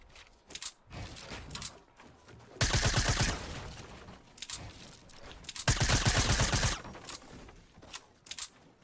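Bursts of automatic gunfire in the video game Fortnite, two sustained rapid volleys of about a second each, loud and close, separated by quieter clicks and mechanical handling sounds.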